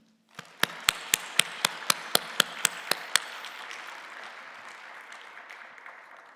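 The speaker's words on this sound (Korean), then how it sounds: "서로를 위한 힘찬 격려의 박수를 부탁드립니다." Applause of encouragement at an online church workplace-mission gathering begins as a string of about ten sharp, evenly spaced claps that fade into a softer, quieter spread of scattered clapping.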